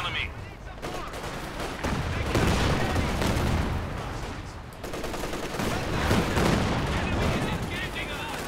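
Machine gun fire in the Company of Heroes 2 real-time strategy game, dense sustained bursts with crackling battle noise throughout, two long rolling stretches of fire with a brief dip between them.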